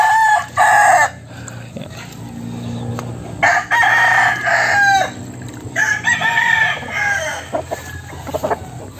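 Gamefowl roosters crowing close by, several loud cock-a-doodle-doo calls in separate bursts, some overlapping, over a low background hum with occasional clucks in between.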